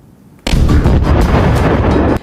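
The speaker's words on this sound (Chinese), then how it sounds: "巨大的爆炸声让民众都误以为是飞弹来袭" A liquefied gas station in Shandong explodes at night, a sudden, very loud deep blast that swells into a sustained roaring rumble lasting about two seconds before cutting off, with no voices.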